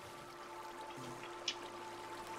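Water flowing in Minecraft, a soft steady rushing stream with a faint trickle, quiet and continuous, with one small click partway through.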